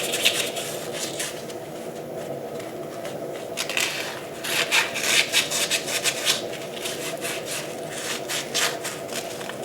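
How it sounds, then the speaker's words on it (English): Sandpaper scrubs the ball joint holes on a Jeep JK, a continuous rasping rub with quicker bursts of strokes in the middle, close and fairly loud. "what I like to do while they're out is take some sandpaper and clean up the holes here"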